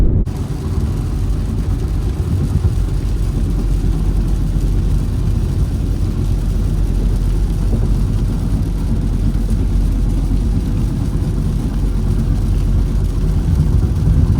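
Alfa Romeo Giulia Quadrifoglio with about 88,000 miles driving, its engine and road noise a steady low rumble that holds evenly throughout with no talking.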